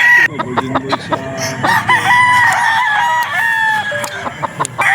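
A spangle gamecock stag crows loudly and close by, giving several long drawn-out calls, with shorter clucks and sharp bursts from nearby fowl between them.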